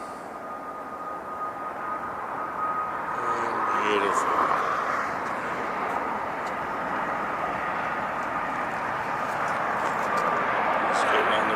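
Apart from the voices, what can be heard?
Lufthansa Boeing 747 landing at LAX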